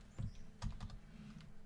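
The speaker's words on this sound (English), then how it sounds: "But it's also going to do that as I start typing." Several quick keystrokes on a computer keyboard while working in CRM software, clustered in a short burst of crisp clicks close to the microphone, with no talking.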